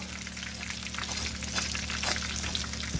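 Country fried pork chops crackling in hot oil, a loud, dense, continuous sizzle heard up close with bubbling spatter and no talking.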